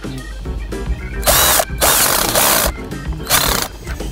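A screwdriver tightens the hose clamp on a Daewoo DDP 17000 submersible drainage pump. Three loud, close whirring bursts with ratcheting clicks come with short pauses between them.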